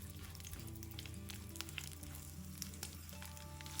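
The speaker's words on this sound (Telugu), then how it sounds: "మిరపకాయలు మరీ ఎక్కువ వేగిపోవసరం లేదు, కొద్దిగా సాఫ్ట్గా అయ్యే వరకు వేయించుకోండి" Chopped green chillies fry in oil in a pan for ginger chutney, producing a continuous soft sizzle with occasional faint crackles and pops, quiet and close, with no talking.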